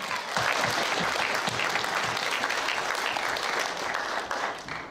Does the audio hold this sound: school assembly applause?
yes